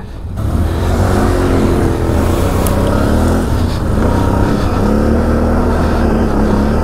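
A Can-Am XMR 850 ATV, a 2023 model, runs steadily on a frozen winter trail, its engine droning loud and close with a continuous growl and a slight pitch rise near the start.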